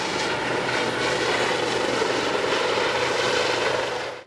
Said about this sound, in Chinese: 也将补充不足的救援直升机降落在演练现场